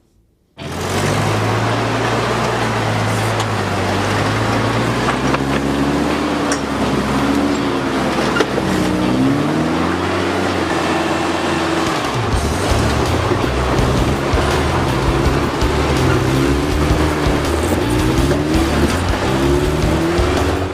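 A rock crawler truck driven off-road, its engine droning loud and close with repeated rises and falls in revs over a rough, gritty wash of terrain noise.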